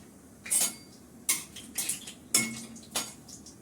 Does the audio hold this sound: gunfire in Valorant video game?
no